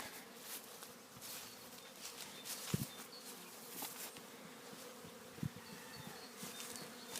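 A dense, steady buzz of many honeybees on a cleansing flight fills the air, with a few louder individual bees passing close by now and then.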